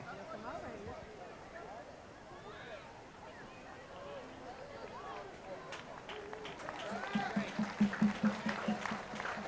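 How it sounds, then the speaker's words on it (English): Crowd at a high school football game applauding, scattered claps swelling toward the end, with an announcer talking over the outdoor noise. "Crowd giving this young man a nice round of applause."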